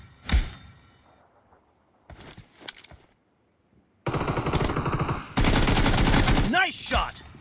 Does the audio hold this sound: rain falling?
no